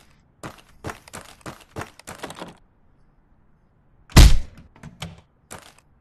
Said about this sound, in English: I bang on the door